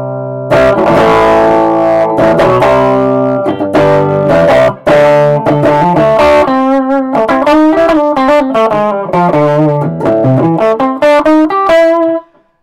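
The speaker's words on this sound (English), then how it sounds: "there's your valve distortion," Marshall Plexi combo valve amp driven into overdrive, an electric guitar playing distorted chords and then a run of single notes, loud and continuous for about twelve seconds before stopping abruptly, with no talking.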